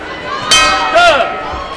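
During a heavyweight boxing match, the ring bell clangs to end the round, giving two ringing strikes over a noisy crowd, with a commentator's voice in the background.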